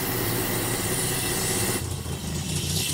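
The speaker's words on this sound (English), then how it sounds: "And it's idling really nicely" A rare 1980s BMW M Sport barn-find car, untouched for 30 years, idling with a steady, even engine drone close by, with a slight shift in tone partway through.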